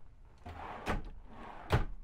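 A drawer or cupboard in the camper build-out of a Ford Transit 350 XLT van is opened or shut, giving two distinct close knocks about a second apart over a quiet background.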